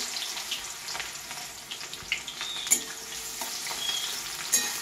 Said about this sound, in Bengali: তেল গরম হয়ে গেছে, এবার এটাতে আমি পেঁয়াজ দেব।